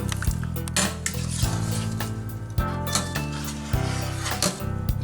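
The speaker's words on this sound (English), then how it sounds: "Gonna turn that on a medium-high heat and get things stirring" Metal spoon scraping and clanking against a pot of boysenberry syrup with partly frozen berries heating on a stove at medium-high, repeated close knocks and scrapes in an uneven stirring rhythm.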